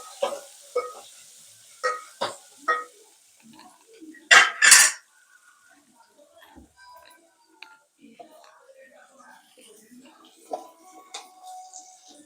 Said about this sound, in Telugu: కరివేపాకు పచ్చిమిరపకాయలు రెండు ఒక చిన్న ఉల్లిపాయ తరుపుకున్నాను పోపులో వేస్తున్నాను